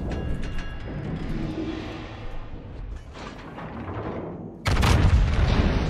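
Naval guns in the warship game St. Vincent fire a salvo, with a sustained rumbling boom that swells and then breaks into a sharp, loud blast near the end.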